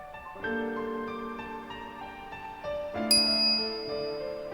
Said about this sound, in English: As I walk into the lab, I'm greeted by the chiming of a microwave oven.